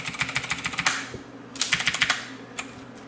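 Rapid bursts of typing on a Motospeed CK104 mechanical keyboard, loud close clacky keystrokes in quick runs with brief pauses between them, no voices.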